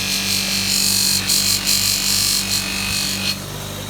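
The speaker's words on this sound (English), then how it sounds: "AEG bench grinder." AEG bench grinder running steadily while polishing a two-stroke exhaust pipe with compound, a close continuous motor hum with fluctuating rubbing and buffing noise that eases near the end.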